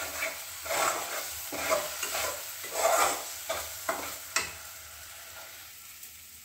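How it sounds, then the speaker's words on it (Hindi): Masala spices with a spoonful of kasuri methi fry in a pan for a raw banana dish, with repeated scraping stirs over a steady close sizzle; a couple of words are briefly spoken. "मसाला फ्राई होता है तब तक इसको काट लेंगे"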